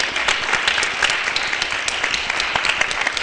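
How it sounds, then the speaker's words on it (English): Steady applause from a conference audience for a panel, dense clapping sustained throughout with no pauses. "give a big round of applause to all the panelists"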